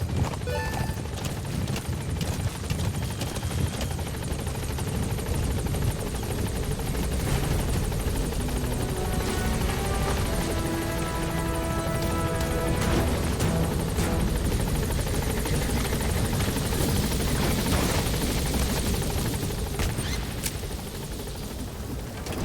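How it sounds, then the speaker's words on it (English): Support helicopter arriving in Metal Gear Solid V: The Phantom Pain, a steady, loud rotor and engine roar that fills the whole stretch, with a throbbing rhythm and some clattering game effects layered over it. "Support helicopter has arrived."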